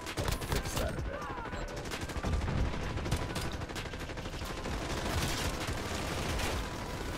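Light machine guns firing in Call of Duty Modern Warfare online play, a dense, continuous rattle of sustained automatic fire with overlapping shots and bursts, loud and close throughout.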